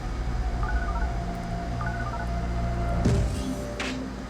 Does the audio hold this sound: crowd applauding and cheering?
no